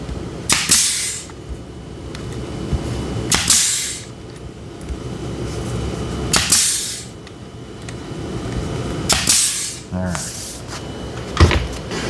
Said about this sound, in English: I've got some 3/4 inch staples. Just going to staple it in there.